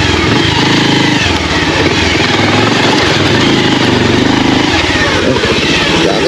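A Pulsar 150 motorcycle ridden along a rough off-road track, its engine droning loud and close without a break, with rattles and bumps from the uneven ground.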